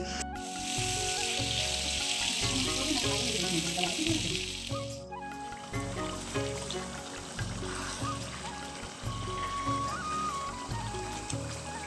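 Food on a stove sizzles with a loud, steady hiss for about five seconds before dropping back under a rhythmic musical beat.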